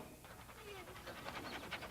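A police dog named Drifter pants in quick, steady breaths close by, the rhythmic huffing continuing throughout with faint background noise beneath.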